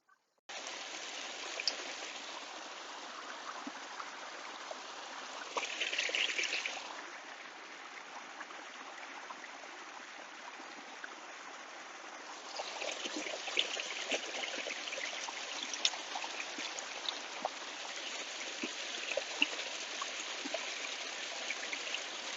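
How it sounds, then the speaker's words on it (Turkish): A river flows beside Bulcuk Lake at a campsite in Konya, a soft, steady rush of moving water heard from a distance, briefly swelling and then growing fuller in the second half. "Akan bir suyumuz var, nehrimiz var"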